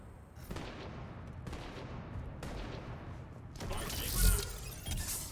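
Gunfire in the video game Mass Effect 3: a few heavy booming shots with long decaying tails over dense background noise, followed by a louder burst of crackling blasts near the end.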